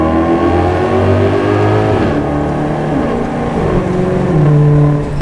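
A loud Maserati GranTurismo engine revs up and down repeatedly, the pitch climbing and dropping in sweeps, close by with no voices.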